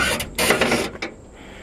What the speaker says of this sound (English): Pop the trunk here.